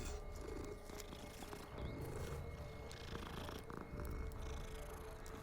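A cat purring steadily and continuously in the video game Hogwarts Legacy, a low rumbling purr close by that runs throughout with no talking over it.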